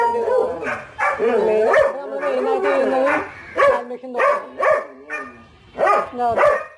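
Several sharp dog barks, likely from a Dalmatian or Labrador, come in short bursts, some yipping and close, mixed with a person talking.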